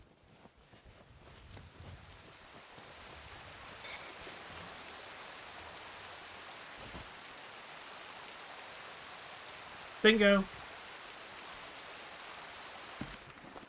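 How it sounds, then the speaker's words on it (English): Steady rushing waterfall in the video game Sea of Thieves, a constant broadband wash of falling water throughout, with a brief short voice near the end. "The waterfall. Our new home."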